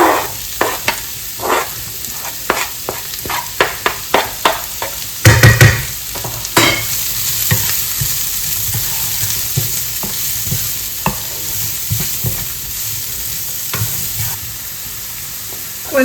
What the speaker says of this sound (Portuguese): E agora eu vou adicionar aqui cebola, alho.